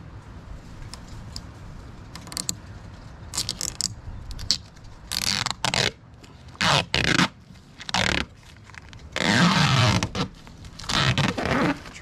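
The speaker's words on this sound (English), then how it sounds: "Peel this plastic off our plexi." Protective plastic film peeled off a smoked plexiglass panel for a cold air intake on a 5.3 engine, several loud close tearing, crackling strips in bursts with pauses between, the longest near the end.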